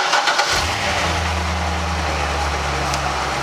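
A stock Chevrolet Corvette C6 Z06 V8 runs on a dyno, a steady low engine drone after a brief start, fairly loud and close in a shop, with no speech over it.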